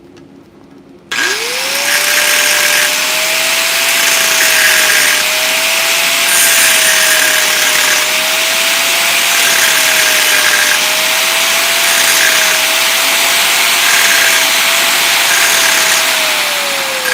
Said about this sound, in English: when we're grinding stuff, always watch where that wheel's going